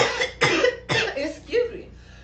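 A few harsh, close coughing fits from one person, three or four rough bursts in quick succession, fading into a quieter throat sound at the end.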